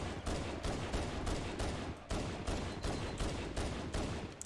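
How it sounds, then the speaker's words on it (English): A pistol fires repeatedly at a Banshee in Halo: Combat Evolved, a rapid, evenly spaced series of sharp loud shots that runs continuously with only brief gaps. "It just takes a couple of magazines for the pistol to take out the banshee."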